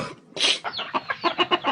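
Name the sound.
chicken clucking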